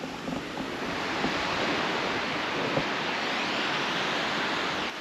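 Surf breaks on an empty tropical beach, a continuous loud wash of waves with a broad hiss and a few soft crashes within it; no talking.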